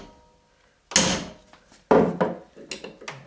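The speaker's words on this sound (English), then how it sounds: "Smack with the hammer" Two sharp metallic smacks about a second apart as a hammer strikes an MGA/MGB gearbox part, loud and close, each followed by a brief ringing decay and some small clatter.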